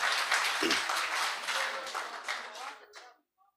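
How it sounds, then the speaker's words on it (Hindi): Audience applause welcoming the poet Afzal Ilahabadi at a poetry gathering, a brief burst of dense clapping that fades out over a few seconds, with a voice faintly heard at the end. "एक बार जोरदार तालियों से उनका इस्तकबाल करें"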